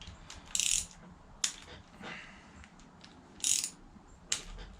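Ratcheting wrench loosening bolts on the cam plate of a GM LS 5.3L LM7 engine in a junkyard, with several short bursts of clicking ratchet and metallic taps close by, spaced by pauses.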